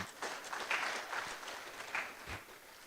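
An audience at a 2025 inaugural university lecture claps for the Cocoa Board, a fairly faint, dense patter of many hands that fades slightly toward the end.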